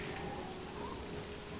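Steady, even rain pours down in the video game Oblivion, a dense unbroken hiss of drops with no voices over it.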